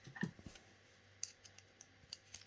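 Hyundai ix35 plastic window switch snapped back together, a few sharp, close, quiet clicks and small ticks spread over a couple of seconds with no talk.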